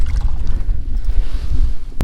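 Wind buffeting a microphone on a fishing boat out on the water, a loud, low, gusting rumble throughout, with a brief knock at the end and no speech.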